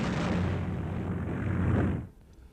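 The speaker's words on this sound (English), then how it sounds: "The Flak 41 had been designed by Rheinmetall Borzig and was rarely filmed, just one being seen here employed in the anti-tank role" A German Flak 41 gun, built by Rheinmetall-Borsig, fires in the anti-tank role in March 1945, a single heavy roaring blast that rumbles for about two seconds and then cuts off sharply.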